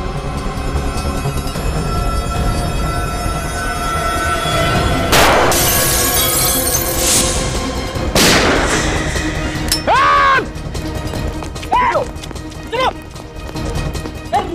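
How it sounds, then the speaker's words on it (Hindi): Gunfire bursts in a TV crime drama scene, two sharp loud blasts with ringing tails over a tense music bed, followed by several shorter cracks or ricochet-like whines. "ये समझ में नहीं आ रहा है फायर कहाँ से हो रहा है।"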